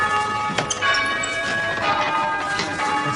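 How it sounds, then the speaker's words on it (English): Church bells ring with sustained, overlapping metallic tones and several struck peals, fairly loud against a busy background. "Stop ringing the bells!"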